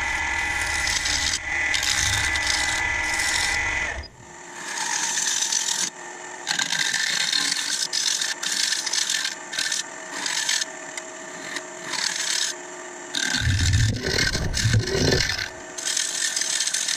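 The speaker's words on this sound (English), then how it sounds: "Sanding." Sanding a small beech live-edge bowl with a battery-powered tool: continuous abrasive rubbing on wood, a harsh rasping drone that pauses briefly a few times, with low thumps near the end.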